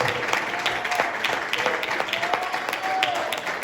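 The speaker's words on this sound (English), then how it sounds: "Could you give the Lord a hand clap of praise tonight in this house?" Church congregation clapping hands in praise during an evening worship service, a steady dense patter of many hands with some voices and a sustained tone mixed in.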